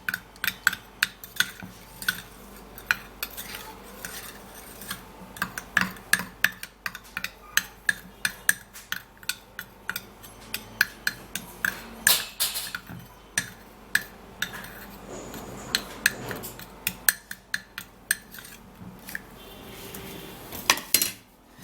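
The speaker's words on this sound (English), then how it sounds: "Then you give it a stir." A teeth whitening mixture is stirred in a small dish, giving a quick run of light, close clinks and scrapes of a utensil against the dish in an irregular rhythm, with no talking.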